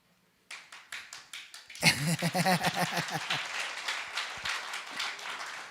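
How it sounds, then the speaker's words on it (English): A few isolated claps grow into a burst of applause from a church congregation during a Pentecost sermon, dense at first and then thinning, with some voices and cheers mixed in. "I don't know why not everybody clapping."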